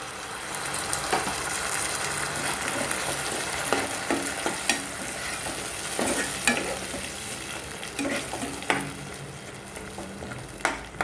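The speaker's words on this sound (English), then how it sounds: "Let us saute until the oil comes out." Tomato puree sautéing in oil with ginger garlic paste, a steady soft sizzle with occasional stirring scrapes and clicks from a spoon against the pan.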